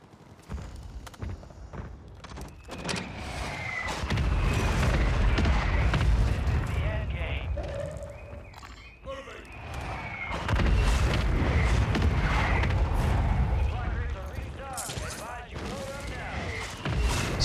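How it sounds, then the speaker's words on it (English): Mortar strike explosions in the video game Warzone, booming in heavy low-end bursts from about 4 to 8 seconds and again from 10 to 15 seconds, amid gunfire and battlefield noise. "Get mortar strikes anyway"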